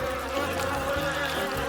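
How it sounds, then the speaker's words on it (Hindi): Honeybees swarm around a honeycomb while honey is scooped from it, a dense, steady buzzing of many insects heard close and continuous, with no talk. "ओह नहीं, कितनी सारी मधुमक्खियाँ हैं।"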